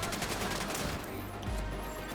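Rapid bursts of automatic gunfire in the video game Tom Clancy's The Division 2 rattle continuously, loud and dense, with a deep thump partway through.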